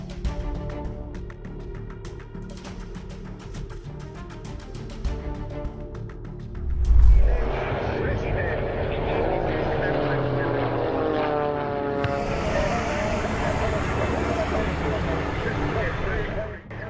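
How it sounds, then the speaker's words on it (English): Propeller-driven Boeing Stearman biplanes fly near an aerodrome, with a loud droning engine roar that swells after a sharp thud and then holds steady. Voices talk over the engines throughout. "Two Boeing Stearmans collided at the Flying Circus Aerodrome, Virginia on August 20, 2022."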